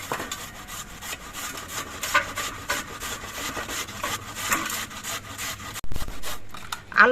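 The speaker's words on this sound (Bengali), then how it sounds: "এবার এই আলুগুলো আমি ঠিকই একইভাবে ঘষে নেবো" Potatoes are hand-grated on a plate, giving a steady, close rasping scrape repeated in rhythmic strokes for several seconds, with a brief pause before scraping resumes.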